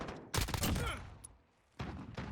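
Oden assault rifle firing in the video game Modern Warfare: two loud, dense bursts of rapid gunfire, the first longer with a ringing tail, the second after a short pause.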